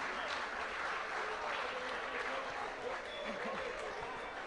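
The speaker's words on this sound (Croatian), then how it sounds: "Ajmo jedan veliki aplauz." Crowd applause for medal winners at a closing ceremony, with continuous dense clapping and a murmur of voices and a presenter's speech mixed underneath.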